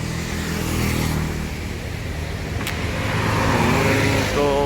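Steady road traffic passing on an Indonesian road, a continuous broadband roar of cars and heavier vehicles rumbling by at moderate distance, with no one talking.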